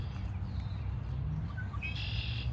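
Birds chirp outdoors among trees, a few faint, brief tweets scattered over a soft, steady background hum, with no one speaking.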